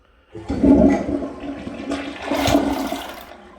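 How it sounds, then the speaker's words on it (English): Second-generation Gerber Avalanche toilet doing a short press-and-release flush, a close whoosh of rushing water that swells, dips, surges again, then drains away quickly with no talking. "Let's try a press and release flush to see how short the flush is on a press or release."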